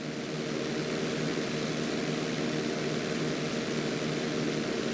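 A propeller plane's engine drones steadily and loudly while it holds a knife-edge roll during a GTA V flight school lesson in the video game, a constant whirring hum with no breaks.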